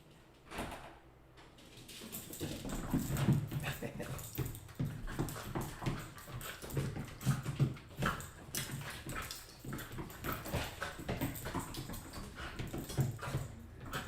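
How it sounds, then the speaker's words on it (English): A miniature poodle whimpers and whines close by, its soft cries repeating over about fourteen seconds amid light shuffling and movement noises, with no talk. "You do hear a dog."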